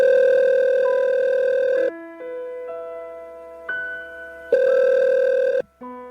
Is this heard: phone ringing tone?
yes